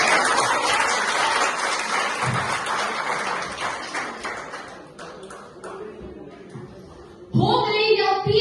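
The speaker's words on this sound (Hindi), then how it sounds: "कोई मेरे लिए भी ताली बजा दो" Audience at a campus voter campaign event at Dr. Zakir Husain Institute, Patna, applauding in a steady clatter of many hands that slowly thins and fades, before a voice cuts in near the end.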